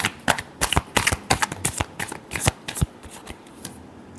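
Tarot cards being shuffled by hand, a quick series of crisp riffling flicks and slaps in an uneven rhythm, close and clear, with no talking.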